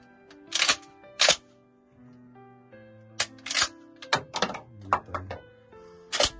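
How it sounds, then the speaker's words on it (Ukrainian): Several sharp mechanical snaps and clicks from a Hatsan Escort Bull Tac shotgun firing, a couple of louder cracks early then a cluster of quicker clicks, close up with a faint hum underneath. "Постріл."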